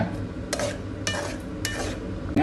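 A utensil scrapes around a pan of goat blood fry in three or four regular strokes over a soft sizzle, close and clear with no talking.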